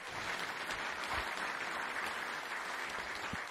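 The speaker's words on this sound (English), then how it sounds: "But how about a round of applause?" Sustained applause from a conference audience at a Heritage event, a dense even wash of clapping throughout with no pauses.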